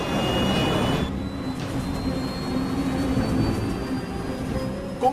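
A jet aircraft engine roars steadily during a steep climb, a broad, even rumble with a thin high whine, fairly loud and alone without speech.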